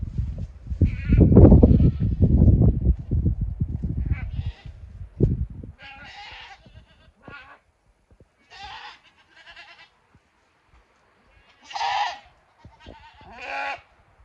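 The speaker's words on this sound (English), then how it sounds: "I'm going to show y'all just how crazy these goats go." Goats bleat repeatedly, several loud wavering calls in bursts, after a stretch of rustling and thumping at the start.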